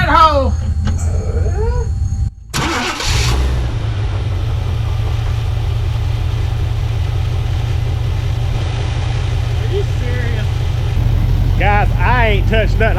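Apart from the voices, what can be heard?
engine starting and idling with Evil Energy carburetor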